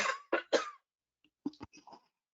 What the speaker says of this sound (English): I'm going to have to cough here for a second.